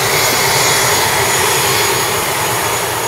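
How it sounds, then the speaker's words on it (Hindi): Inside an ATR airplane in flight, a loud, steady roar of engine and cabin noise fills the space without letup, with no voices. "फ़्लाइट में बहुत ज़्यादा शोर है"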